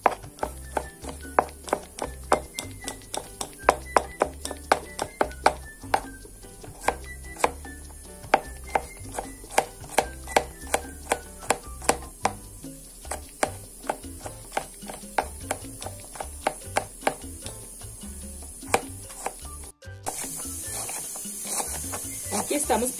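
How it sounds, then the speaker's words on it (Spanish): Rapid, rhythmic knife taps on a cutting board as four garlic cloves are finely chopped, close and crisp, with a short pause near the end. "Vamos a comenzar a picar los 4 dientecitos de ajos finamente también"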